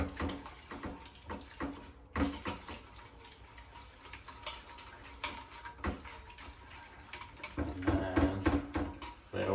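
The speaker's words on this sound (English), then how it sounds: "So this will bind the beef to the flour. So just mix that in." Raw beef pieces being worked together with flour and egg in a bowl for crispy chilli beef: a steady stream of close, wet squelching and soft clicking with occasional bowl knocks, getting busier toward the end.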